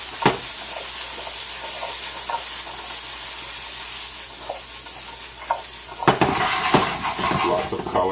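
Chicken, zucchini and mushrooms are flipped in a hot stir-fry pan, giving a continuous close sizzle with soft scraping clicks. A louder rustling toss and clatter comes near the end.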